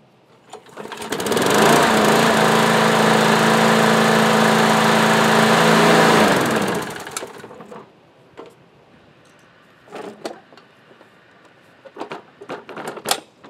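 A Briggs & Stratton engine on an MTD lawn tractor starts up and runs loud and steady for several seconds at close range, then shuts down, leaving quiet clanks and handling noises.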